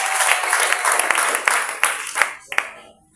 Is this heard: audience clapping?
yes